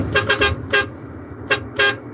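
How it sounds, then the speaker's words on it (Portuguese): A Fiat Uno car horn honks in a quick series of short toots followed by two more after a pause, loud and close in an otherwise quiet room. "Essa buzina aí é Fiat Uno, certeza."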